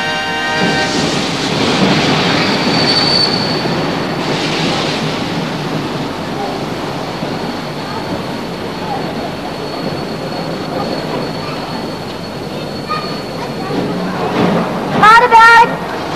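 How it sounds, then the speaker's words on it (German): A train rumbles steadily as it pulls into a small town, with a continuous rolling roar, a fainter whine, and a cluster of sharp squeals near the end, while a voice talks over it. "Und während dieser Zug seine große Reise antritt, kommt ein anderer in der kleinen Stadt an."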